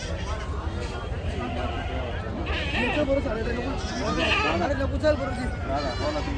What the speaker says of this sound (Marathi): इकडे तुम्ही पाहू शकाल मित्रांनो, काठेवाडीमध्ये शेळ्या आलेल्या आहेत बघा